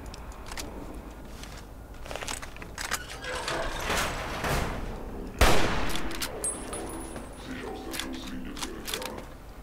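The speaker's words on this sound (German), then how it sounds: "Dann mache ich es halt mit einem Schuss" Gunfire in Fallout New Vegas cracks out in a series of sharp, irregular shots, one especially loud blast near the middle, set against quieter game ambience and occasional speech.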